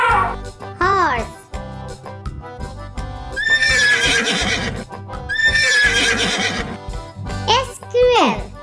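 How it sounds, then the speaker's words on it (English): A horse neighs in two long, loud whinnies over playful background music, with a voice speaking briefly at the start and end. "Horse."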